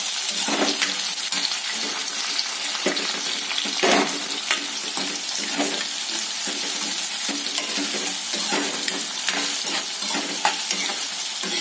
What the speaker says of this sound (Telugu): అండ్ నెక్స్ట్ కరివేపాకు వేసుకొని బాగా ఫ్రై చేసుకోవాలి